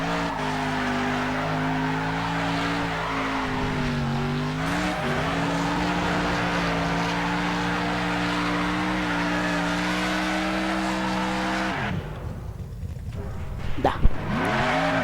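A car in the racing game Next Car Game drives with a steady engine drone and long tire skids, then the noise cuts out around a crash and picks up again near the end.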